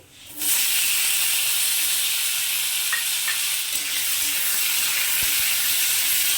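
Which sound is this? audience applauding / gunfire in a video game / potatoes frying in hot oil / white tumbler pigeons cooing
potatoes frying in hot oil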